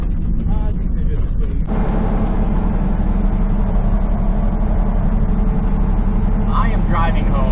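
Chevrolet Suburban driving home, a steady low road and engine rumble with tire noise throughout, close and continuous, with a voice talking over it.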